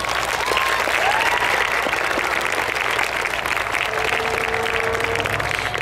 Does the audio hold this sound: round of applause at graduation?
yes